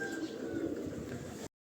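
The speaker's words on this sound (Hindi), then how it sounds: "कबूतर आ रहे हैं ऊपर से" Pigeons returning overhead under a cloudy sky coo faintly over a steady background hush, and the sound then cuts off abruptly.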